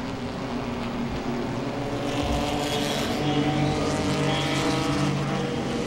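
Pro-Six race cars battling for the lead on a short oval at Langley Speedway, a continuous loud engine roar that rises as cars pass close by, with dense overlapping engine drone and no talk.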